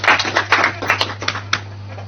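An audience in a junior quiz show studio claps for a contestant, giving short uneven bursts of near, sharp hand claps that thin out over two seconds over a low steady hum.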